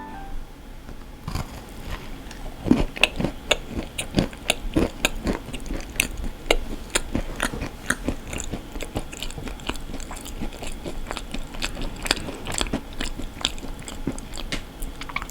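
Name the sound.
eating ang-butter bread (red bean paste and butter)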